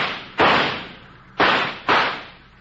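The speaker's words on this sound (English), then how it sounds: "Hey, you shot that dangling fuse right off." A gunshot in a radio drama blasts a dangling dynamite fuse off, heard as three sharp, loud reports, each with a decaying tail, the second and third coming close together.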